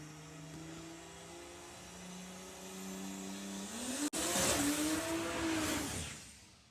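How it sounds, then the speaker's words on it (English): A VW Pro dragster at a drag race qualifying round: the engine idles with a low tone, then revs up sharply in a loud rising burst after a brief cut. It sounds close and fills the whole clip, with no talking. "Down here is a dragster."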